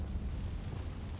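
Confringo blasting spell going off in Hogwarts Legacy: a dense, low rumbling explosion that roars steadily and loudly for about a second with no talk over it.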